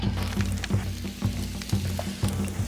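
Large and small lobster claws sear on a hot smoky grill with a steady close sizzle, broken by repeated soft thumps as pieces are set down.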